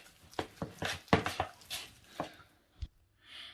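Hash brown mixture being mixed in a bowl, a series of irregular soft knocks and scrapes of a utensil against the bowl, close and fairly quiet, trailing into brief silence and a faint rustle.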